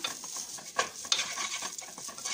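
Eggs being stirred and mixed into vegetables in a pan for a mixed vegetable rice made with ration rice, giving a steady scraping, sizzling stir with a couple of sharper utensil clicks, close and alone.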